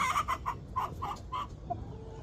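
A rooster in a farm coop gives a short run of close, clear clucks, several rapid calls in a loose rhythm, ending with one softer note over quiet background.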